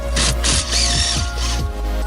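A ratchet wrench clicks steadily while loosening 10mm bolts inside the dashboard of a Toyota Camry during radio removal, loud and close with repeated bursts of rapid pawl ticking.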